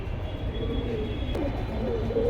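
Pigeons being sold by a dealer in Bangladesh give low, throaty coos that repeat and overlap against a steady background murmur.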